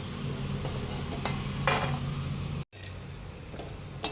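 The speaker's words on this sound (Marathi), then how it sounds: "काजू तळताना कमी गॅस करायचं" Cashews fry in ghee over a low flame with a constant gentle sizzle and faint hum, punctuated by occasional spoon clinks, a brief dropout, and a clatter at the end.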